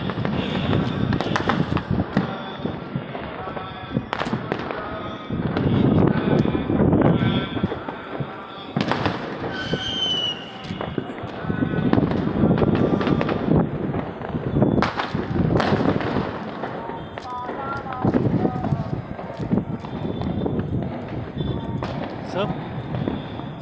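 Diwali fireworks and firecrackers burst outside near a building during a Kali Puja celebration in Ranchi, sharp loud cracks and bangs repeating irregularly throughout, with someone talking over them.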